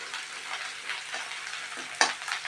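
Finely chopped ginger fries in oil until reddish, giving a close, steady sizzle with crackling bursts and the scrape of stirring, one sharper pop near the end.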